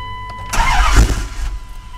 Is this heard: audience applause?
no